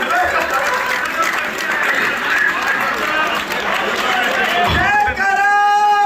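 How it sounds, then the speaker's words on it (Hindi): Loud, sustained applause fills a Hindu poetry gathering (kavi sammelan) in Ghaziabad, a thick roar of clapping from a crowd with voices carrying over it before it fades. "तालियां जोरदार वाली बजा दो एक बार"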